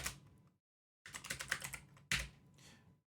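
Typing on a computer keyboard in two quick bursts of close, crisp key clicks separated by short silences.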